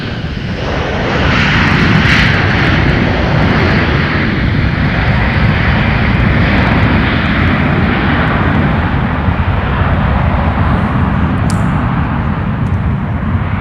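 Airliner roaring past plane spotters at MSP airport, a loud, steady, broadband jet rumble that holds from start to finish.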